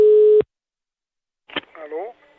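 A steady telephone line tone sounds loud and close for a moment while a phone call is placed, then cuts off into silence before a voice briefly speaks.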